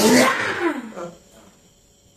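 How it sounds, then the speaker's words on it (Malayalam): A single sharp sneeze bursts out loudly at the start, then trails off into quiet room tone. "തുമ്മുവാ തുമ്മു"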